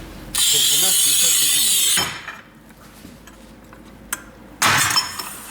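A manual tile cutter scores 10 mm hard porcelain stoneware with a loud, steady scraping hiss lasting over a second, then a quiet pause, a sharp snap and another harsh grinding scrape at the end.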